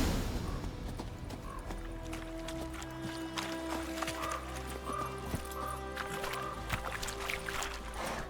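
Roach, the horse in The Witcher 3, gallops with a steady rhythmic clip-clop of hooves over game music and ambience, with no talking.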